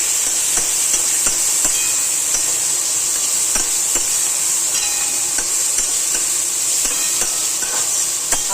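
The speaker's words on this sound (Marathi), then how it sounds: "हळद पावडर ना तेलामध्ये चांगली परतली पाहिजे, मग पोहे चांगले होतात." Turmeric powder fries in oil for village-style poha, a constant close sizzle with soft scattered clicks of stirring and no talking.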